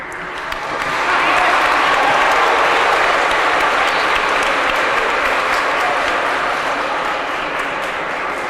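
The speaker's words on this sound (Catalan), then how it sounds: "Com ja he aconseguit que m'aplaudiu" Audience applause for a speaker at a public event, rising within the first second into loud, dense, sustained clapping from a large crowd, holding steady for several seconds with a slight fade at the end.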